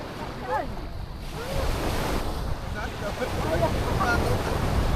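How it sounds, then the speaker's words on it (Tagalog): Strong wind at the beach in Pagudpud buffets the microphone with a constant roar, waves and surf underneath, and distant voices faintly in the background. "Lakas ng hangin eh"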